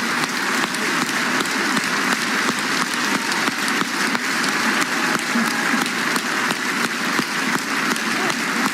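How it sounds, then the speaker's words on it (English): Sustained, loud audience applause for Meryl Streep at the Cannes Film Festival Palme d'Or honour, a thick continuous roar of many hands clapping with no letup throughout. "Long career, long applause"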